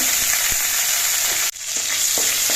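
Whole cumin seeds fry in oil left in a kadai after frying prawns, a steady dense sizzle with a few soft stirring knocks and one brief dip near the middle.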